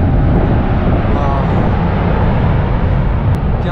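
At the crater of Mount Bromo, an active volcano, a loud, continuous deep roar rumbles without pause, broad and wind-like, with no distinct bursts.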